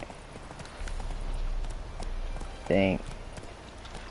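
Horse hooves clip-clopping in The Witcher 3 as the rider's mount runs, a steady rhythm under a short, louder burst near the end, with a voice speaking briefly.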